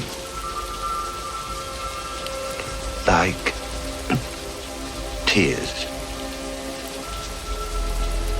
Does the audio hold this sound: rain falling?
yes